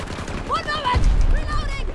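P90 submachine gun firing in a video game, a short burst of rapid shots under voices talking.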